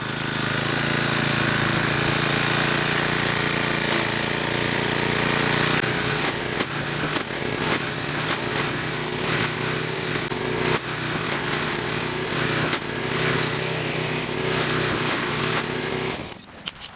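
A Rooternator machine mows down tree roots flush to the ground, a loud, continuous rattling engine and grinding roar that runs steadily before cutting off abruptly near the end.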